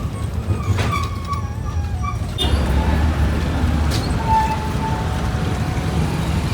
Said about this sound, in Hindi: बस का शोर इतना ज़्यादा है ना